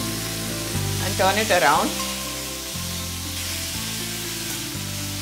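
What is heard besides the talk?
chopped radish sauteing with chilies and ginger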